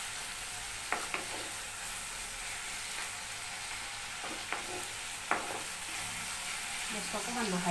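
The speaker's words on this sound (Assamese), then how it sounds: "আমি এতিয়া ভাজি আছোঁ।" A pan of onions frying on a gas stove gives a soft steady sizzle, punctuated by a few sharp knocks of a stirring spoon, heard up close and fairly quiet.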